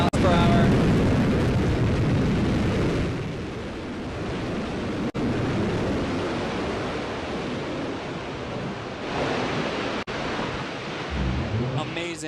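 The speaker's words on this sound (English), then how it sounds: "Another picture-perfect landing for New Shepard rocket booster." A New Shepard rocket booster fires its engine during landing, a loud, continuous broadband roar that swells and fades over several seconds with no voices.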